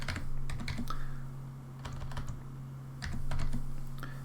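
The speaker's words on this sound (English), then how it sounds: "if I start typing this in, and I'll explain it as I go" Computer keyboard keys tapped in irregular bursts of clicks, close and fairly crisp, with short pauses between runs over a steady low electrical hum; no talking.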